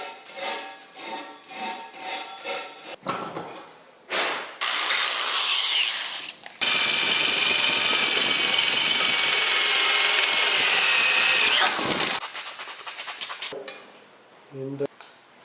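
Emery cloth rubs back and forth over rough metal edges, a raspy continuous scraping that swells loud and steady for several seconds, framed by shorter rubbing strokes and brief pauses.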